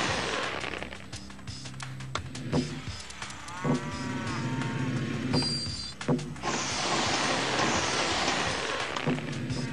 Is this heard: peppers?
no